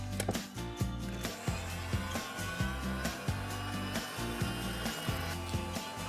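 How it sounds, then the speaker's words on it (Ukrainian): A mixer whirs steadily while whisking a cheese curd mixture with sugar, vanilla sugar and semolina into a smooth mass for a baked curd casserole, with a loud continuous drone and rhythmic bumps as the beaters knock the bowl. "І далі збиваємо до однорідної маси і розчинення цукру."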